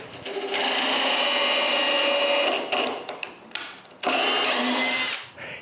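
Power drill driving screws into cedar planks for a patio table, two loud whining bursts of motor running at full speed, separated by short pauses and clicks, no talk.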